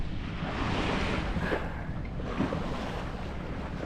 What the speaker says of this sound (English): So I'm just motor sailing. There's a bit of wind, not a lot.